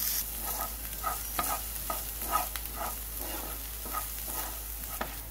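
Onions sauté in a pan for a cauliflower masala, a soft continuous sizzle punctuated by rhythmic spatula scrapes and taps, with no one talking.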